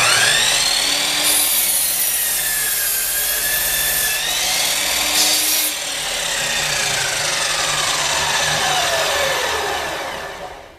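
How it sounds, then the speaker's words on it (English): A Harbor Freight 12-inch double-bevel sliding compound miter saw whines at high speed and cuts through clamped wood, its tone dipping and rising as the blade bites, then winding down. "Let's just cut through this piece of wood to give you an idea."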